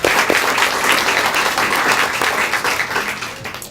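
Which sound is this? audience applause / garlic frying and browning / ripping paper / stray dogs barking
audience applause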